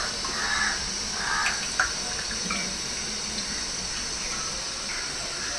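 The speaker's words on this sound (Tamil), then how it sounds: "மீன் பிரியாணி செய்யறதுக்கு பாத்திரம் கேஸில் வச்சிட்டேன் இப்போ எண்ணெய் ஊற்றிடலாம்" About 250 ml of cooking oil being poured into a pot on a gas stove to start fish biryani with koduva fish, a steady, fairly quiet liquid trickle and hiss with a faint tap partway through.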